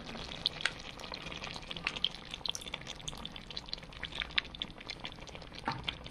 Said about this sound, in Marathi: तर मस्तपैकी असं दही टाकून घेऊ.